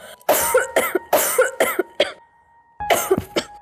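A woman's repeated coughing, close and loud: sharp bursts in quick clusters of two or three, a short pause, then another cluster.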